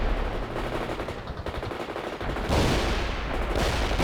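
Sustained automatic weapons fire from units in the World in Conflict video game, with rapid rattling bursts that grow louder and denser toward the end and no speech.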